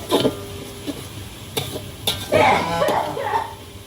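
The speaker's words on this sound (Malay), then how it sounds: "kita kacau cili yang dah dikisarkan tadi sampai naik bau" Blended chili sizzles in a hot wok while a utensil scrapes and stirs it in uneven strokes, with a few sharp clacks close by.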